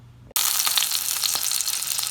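Camembert cheese frying in a pan on a stovetop bursts into a loud, steady sizzle after a brief quiet moment, then crackles continuously without speech.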